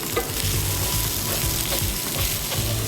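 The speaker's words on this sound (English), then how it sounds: "we're going to let our onions cook until they start to caramelize" Onions sizzle and fry in a pan, a continuous crackling hiss with faint stirring scrapes, close and steady throughout.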